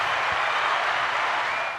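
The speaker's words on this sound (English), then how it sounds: "Let's give a round of applause for that too as well" Round of applause from a small crowd at an outdoor campaign event for a Cook County Board President nominee: steady clapping at moderate distance, fading slightly at the end, with no voices.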